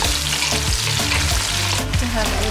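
Tomatoes sizzle and fry in a hot pan while squid adobo is cooked, a steady crackling hiss with a few stirring scrapes throughout and no talking.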